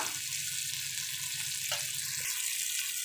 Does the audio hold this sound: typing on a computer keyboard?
no